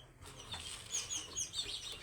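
Sparrows chirp in quick high bursts at a village home near the fields, with soft flutters of wings among the calls at moderate distance.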